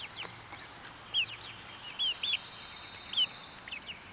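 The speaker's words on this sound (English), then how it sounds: "Active chickens, very nice." Backyard chickens in a covered pen give a few short, high clucks and chirps at moderate distance, scattered over a quiet outdoor background.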